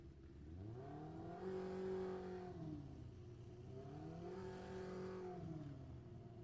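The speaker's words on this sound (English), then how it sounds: "So the junior comp car, seeing what it can do." A junior comp drag race car at a Halloween drag meet revs and accelerates in two long, loud surging pulls, engine pitch rising and falling twice with no talk over it.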